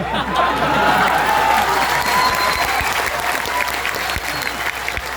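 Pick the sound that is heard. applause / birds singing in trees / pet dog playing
applause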